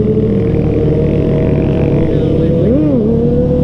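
Two cars with T-Bolt camshafts accelerate side by side from second gear in a roll race, a loud, continuous engine drone rising and falling in pitch, with brief talk under it.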